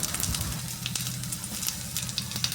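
Onions and green chillies sauté in a pan for chutney, giving a close, steady sizzle with sharp crackles and pops scattered throughout, and no voices.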